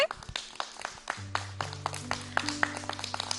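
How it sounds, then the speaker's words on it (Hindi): Clapping for a child on a children's TV programme: a run of sharp, uneven hand claps that keeps going as a steady tune joins underneath about a second in. "तो हमें तालियां बजाएंगे पहले।"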